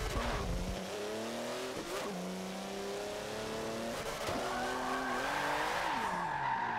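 A Porsche drifting in Forza Motorsport 7, its engine revving and shifting throughout while tires squeal in long, steady, close-up screeches, with no talking.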